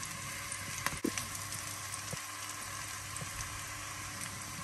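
Continuous sizzle of garlic frying in a pan with cooked onions for a Kenyan tripe and spinach dish, a steady crackling hiss with a few sharp clinks and pops, no voices.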